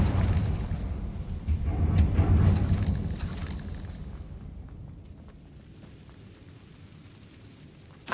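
The Confringo explosive spell in Hogwarts Legacy lands as a loud rumbling burst with crackling debris. Its roar fades away over the last few seconds.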